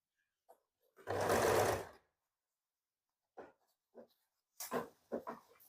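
A sewing machine runs in one steady burst of about a second, stitching pleats into a baby frock, followed by a few short clicks and handling noises of the fabric.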